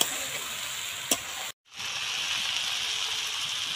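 Taro, potato and onion sizzle steadily in a pan as they are sautéed with spice powder, a bright continuous frying hiss with a brief stir clatter and a momentary break in the sound.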